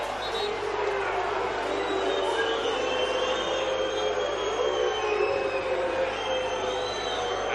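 Crowd at the NPL men's NSW grand final between Rockdale Illinden and APIA Leichhardt, a continuous stadium roar with rising whistles and shouts carrying over a broad, steady murmur.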